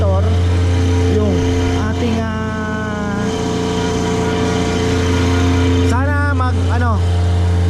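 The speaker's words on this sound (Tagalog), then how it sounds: "Tapos ito, yung generator po, napapagana na ng generator." A diesel generator runs steadily at a lechon roasting site, producing a loud, constant low hum that persists throughout, while a person talks over it with other voices in the background.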